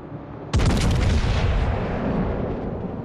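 A naval gun fires once in World of Warships Legends. One sudden, heavy boom cracks out close and loud, then its rumbling echo spreads and fades slowly over the next few seconds.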